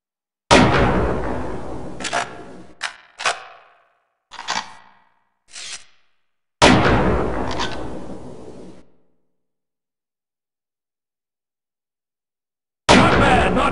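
Sniper rifle shots ring out during boot camp target practice in the Opposing Force video game, several loud cracks with decaying tails, some spaced by short gaps and others by long silences.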